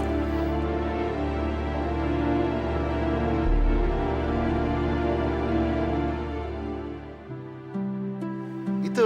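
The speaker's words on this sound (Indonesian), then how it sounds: "Itu suara mobil Evan tuh." Evan's car pulls up, heard as a steady low engine rumble with a sustained hum that shifts pitch and settles near the end; no voices.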